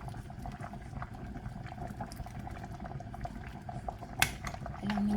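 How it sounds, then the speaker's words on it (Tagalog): Fish head soup with vegetables boiling in a pot, a steady bubbling simmer throughout, with a sharp utensil clink near the end and a quiet voice briefly underneath. "Isang kulo lang yung gulay, pwede na."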